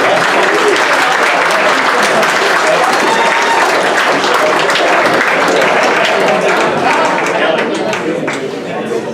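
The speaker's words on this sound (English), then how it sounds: "Everyone could give Roddy a big round of applause" A crowd at a football old boys' gathering gives a big round of applause, loud and sustained, with cheers and chatter mixed into the steady clapping before it eases off.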